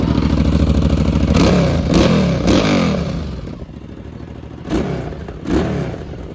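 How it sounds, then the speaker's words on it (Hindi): A Hyosung Aquila GV650 cruiser motorcycle idles nearby and is revved in several sharp bursts, with two quick throttle blips early, a settling idle, then two more short revs toward the end. "तो मैं गाड़ी चालू कर देता हूँ एक बारी।"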